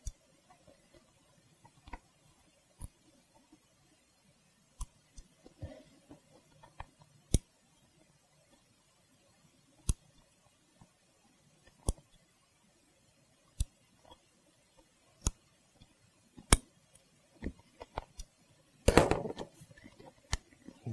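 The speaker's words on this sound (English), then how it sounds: "you can keep making little bit trim cuts." Scissors making small trim cuts in leather for a 2000-2004 Ford Mustang seat, sparse sharp snips spaced a second or two apart in a quiet room, ending with a brief rustle of material.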